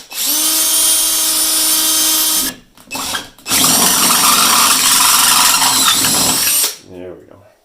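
A power drill bores a hole through the metal case of a Heathkit IG-102, a loud close whining grind that runs for a couple of seconds, pauses briefly, then drills steadily again before winding down.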